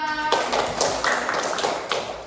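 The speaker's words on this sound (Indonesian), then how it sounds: "Tepuk tangan untuk kelompok 2." Primary school pupils in a grade five classroom clap for a student group, a brief loose burst of hand claps following a short tone, fairly close and moderately loud.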